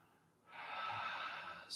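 One slow ujjayi yoga breath drawn through a narrowed throat, a soft, steady, ocean-like hiss that swells in and holds for about a second, quiet and close.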